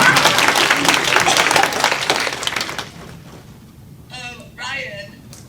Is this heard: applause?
yes